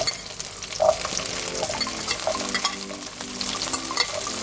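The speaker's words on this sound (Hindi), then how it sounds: "अब मैं इसी के साथ में ये मैं मटर डाली हूँ जो मैंने आधा कप के करीब ली है।" Green peas tipped into a pan of frying ginger, garlic and green chillies for ring samosa filling, giving a loud steady sizzle with stirring scrapes and crackles throughout.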